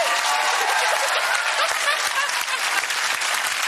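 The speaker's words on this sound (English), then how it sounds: "Round of applause for that Christmassy face." Studio audience on a Christmas prank entertainment show bursts into loud, sustained applause, a dense wash of clapping that stays steady and close for the whole stretch with no pauses.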